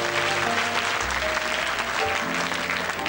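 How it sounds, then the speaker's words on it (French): An audience at a 1991 children's talent show applauds a little girl named Aurélie, with continuous clapping over a faint musical backdrop. "On applaudit Aurélie."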